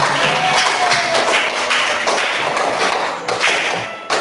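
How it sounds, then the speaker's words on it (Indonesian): A class of children clapping hands together, a dense burst of overlapping claps that continues steadily for a few seconds. "Tepuk tangan untuk kita."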